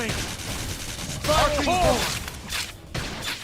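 Gunfire in the game Xenoblade Chronicles X, a quick burst of rapid shots mixed with battle effects and a rising synthetic tone, moderately loud amid other combat sounds.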